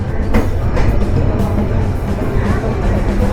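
The Rupsa Express down train pulls into Saidpur station running about an hour late, its heavy steady rumble loud and close, with a low rolling drone from the wheels and carriages.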